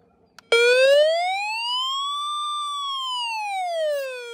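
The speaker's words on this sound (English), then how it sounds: "I also like the emergency alarm that it has." An OnLyee portable emergency weather radio sounds its alarm: a loud electronic siren tone that starts abruptly after a faint click, rises slowly in pitch, then falls again, held steady and alone with no talk.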